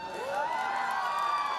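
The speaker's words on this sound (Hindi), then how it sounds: "ताली बजाओ, सांस लेना है, जोरदार बजाओ" An audience at a special program claps and cheers in a dense, continuous roar, with a rising whoop or shout standing out above the crowd.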